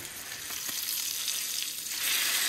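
Food sizzles and fries steadily in a pan over a small stove inside an off-grid ice fishing shanty, a continuous close crackling hiss that swells louder toward the end, with no talking.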